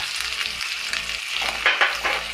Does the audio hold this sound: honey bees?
no